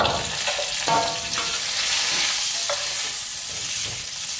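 Steady crackling sizzle of chicken frying in hot oil, continuous and close, with a few soft clinks of a utensil stirring the pan.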